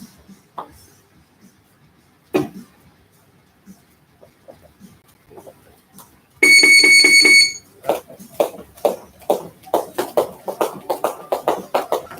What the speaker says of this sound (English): You got the big timer. It goes off every 30 seconds.